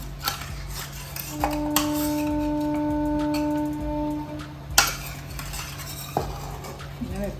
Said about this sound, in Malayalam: ഇനി ഇതിലോട്ട് ഇപ്പം നമ്മൾ വെച്ചേക്കുന്ന മീനില്ലേ അതും ഇട്ട് കൊടുക്കാം